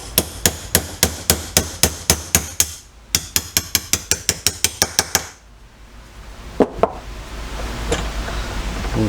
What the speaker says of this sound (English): In order to remove the one of the pins, I'm going to be using the punch and hammer